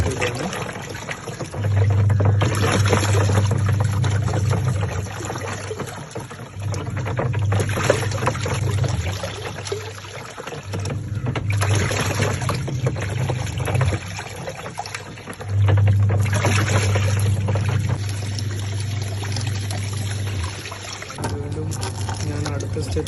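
Water pours into a washing machine drum filling up for tank cleaning, a loud rushing, gurgling flow that runs in long stretches broken by brief pauses, with faint background noise between bursts.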